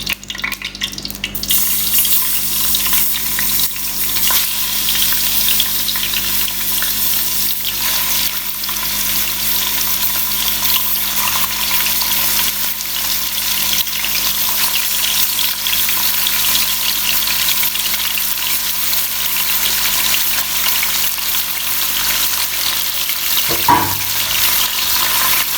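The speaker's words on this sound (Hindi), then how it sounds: "चिकन को फ्राई करते हैं।" Chicken fries in about half a cup of hot oil for spaghetti chow mein, a steady, loud, close hiss and crackle that holds for the whole stretch, with a brief clatter near the end and no talking.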